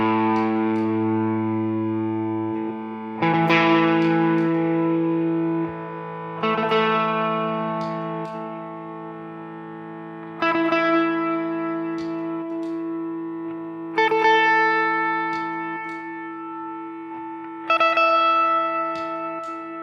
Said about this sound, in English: So in this way you can sustain forever, and it only decays as much as you've set the effect level on the freezes.